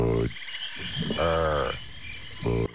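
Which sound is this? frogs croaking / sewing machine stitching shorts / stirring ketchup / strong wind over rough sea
frogs croaking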